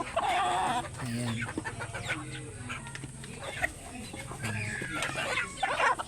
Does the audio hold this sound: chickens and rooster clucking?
yes